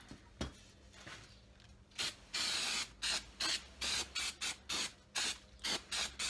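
A quick series of short aerosol sprays of grease and wax remover hiss close by onto a clean shop rag, the bursts coming in an uneven rhythm after a soft opening rustle.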